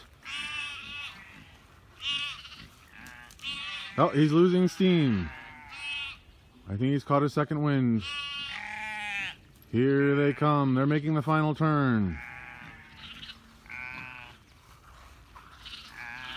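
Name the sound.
sheep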